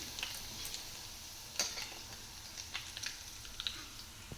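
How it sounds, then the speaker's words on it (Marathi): Cumin seeds and kasuri methi frying in hot oil for a tadka, a steady soft sizzle with a few sharp spoon taps and clicks against the pan. "तेल गरम केलं जिरे मोरे तळून घेतले त्यात त्यात टाकते आता कसुरी मेथी"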